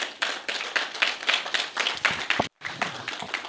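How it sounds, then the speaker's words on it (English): A crowd applauding steadily, dense clapping from many hands that carries on with a brief cut before resuming. "Another round of applause for Prince Harry Crystal."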